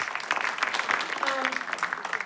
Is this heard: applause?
yes